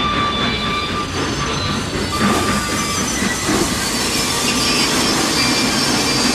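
Southern Pacific 4449 steam locomotive rolling through Taylor Yard in Los Angeles, a steady loud rumble of rail cars with faint wheel squeals and clatter throughout, no voices.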